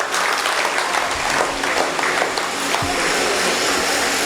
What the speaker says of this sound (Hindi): इन सब के लिए आप एक बार जोरदार तालियां बजा दीजिए